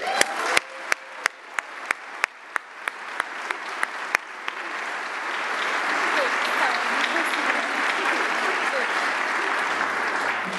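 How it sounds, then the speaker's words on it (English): An audience applauds a speaker being introduced at a university speaking event, starting as a few sharp separate claps that quickly swell into steady, sustained applause filling the room. "Please give a big round of applause for Kate Sparks."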